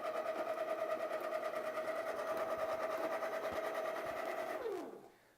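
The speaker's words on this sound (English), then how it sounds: "the motor will run and the beans will hop around a little bit in the hopper, but it's not going to do any grinding" A clogged Baratza coffee grinder's motor runs without grinding, giving a steady, moderately loud mechanical hum with a rattling buzz, then winds down and fades out at the end.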